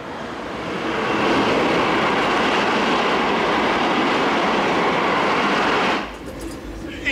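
A train running on rails, loud and steady with broadband rumble and rolling noise throughout, dropping off abruptly near the end.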